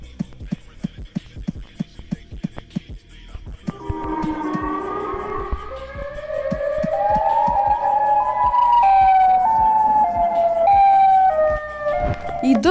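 In the video game Chicken Gun, rhythmic clicking footsteps give way to the rising, wailing siren of the summoned Siren Head, swelling and growing louder, with warbling tones layered on top.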